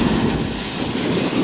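A Clipper Super 298D seed cleaner, upgraded with a VFD and high-wear fan, runs at full speed of 410 RPM with shaking ball trays and screens, giving a steady, loud, dense mechanical rumble and hum that continues without a break.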